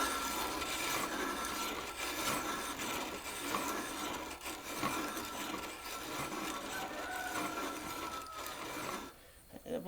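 A Wonder Junior hand grain mill grinds wheat between its stones, making a continuous gritty, scraping rumble with uneven rhythmic surges that stops abruptly near the end.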